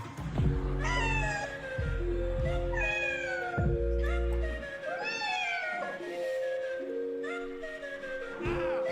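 A cat meows repeatedly, loud and close, in a string of drawn-out calls at roughly one-second intervals, alone with no talking.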